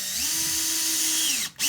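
A cordless drill drives screws through soft bendable metal strapping into a wooden subfloor while patching hole-saw holes, giving a steady rising whine that cuts off briefly and then revs again, loud and close.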